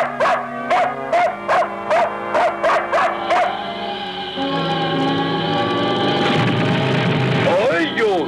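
Dog barking and yipping, a quick series of sharp barks for a few seconds, then giving way to a louder, sustained mechanical rumble with a high-pitched whining yelp near the end.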